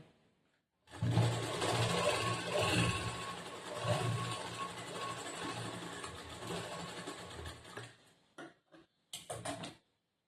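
Close sewing machine stitching a plain blouse in one long steady whir that slows near the end into a few short stops and starts.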